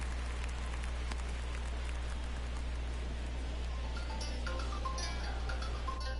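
Simulated rain falls during a rain delay in the baseball video game MLB The Show 22, a steady broadband hiss of rain on a surface over a constant low hum, with no voices.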